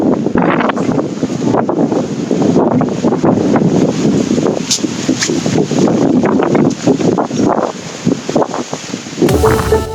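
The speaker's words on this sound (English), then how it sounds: "windy it is right now." Strong outdoor wind buffets the microphone with a continuous, loud, rumbling roar and gusty surges throughout, ending with a brief scuffling handling noise.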